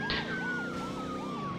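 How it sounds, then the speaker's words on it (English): A police car siren from the Midtown Madness driving game wails in repeated rising-and-falling sweeps, loud and continuous, over a steady engine drone with a faint high tone running through it. "Maximum I think is 3 police cars chasing you."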